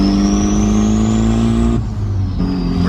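Mazdaspeed 3 pulling hard at wide open throttle in third gear on the road, a loud, close engine drone rising steadily in pitch, with a brief dip in the middle.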